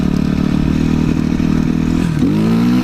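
A motorcycle runs steadily by a lake, its engine droning loud and close throughout with a slight rise in pitch near the end, as if revving up.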